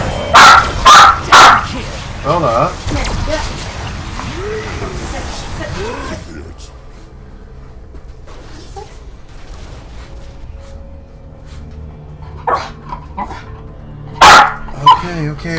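People imitate dog barking with a burst of loud yapping bark sounds at the start and another near the end, with quieter voices and game sounds in between.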